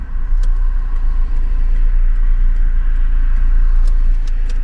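Rush-hour road traffic roars past close by, a loud continuous rumble of car engines and tires with a deep low drone throughout and occasional sharper hiss of passing vehicles, no voices over it.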